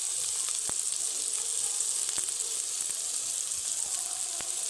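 Onion and tomato frying in hot oil with turmeric and other ground spices, a steady close sizzle that holds evenly throughout with a few small pops and no talking.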